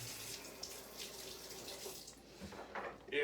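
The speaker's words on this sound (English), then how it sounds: "rinse off my hand quick." A kitchen tap runs at the sink as a hand is rinsed off during refried bean cooking, a steady soft rush of water with slight splashing changes as the hand moves under the stream.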